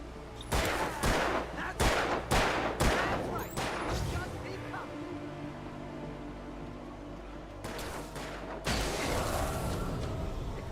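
Gunfire in the Alan Wake video game: a series of sharp, loud shots in quick bursts, then a quieter stretch and another heavy burst near the end.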